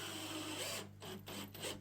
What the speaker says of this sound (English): you can probably just hear it ratchet up there